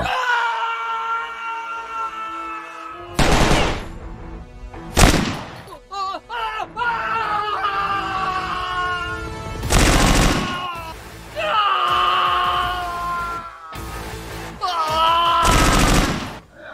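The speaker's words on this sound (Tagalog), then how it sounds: "At tanging putok ng baril at sigaw na lamang ang umaalingaw-ngaw sa paligid mula sa dilim" Bursts of gunfire crack through a dark night scene alongside shouting and anguished screams, with loud broadband blasts recurring over several seconds.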